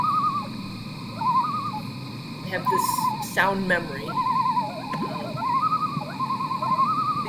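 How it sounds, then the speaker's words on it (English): Common loons call across a quiet backwater lake, their wavering, tremolo-like cries rising and falling at mid distance in repeated phrases while a person talks quietly over them. "These are loons communicating."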